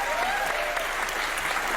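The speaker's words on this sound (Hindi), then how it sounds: "इसके ऊपर तालियां बजा रहे हो आप?" An audience breaks into thick, sustained applause, a dense wash of many hands clapping at once that stays loud and steady throughout, with a faint voice carrying over the crowd.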